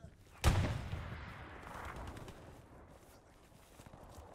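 A single sharp gunshot cracks out early in a Hell Let Loose firefight, followed by a fading rumble and faint distant shots, with a voice speaking softly in the background.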